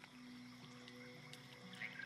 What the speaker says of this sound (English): It croaks softly, calmed, but the frog's eyes watch your every movement.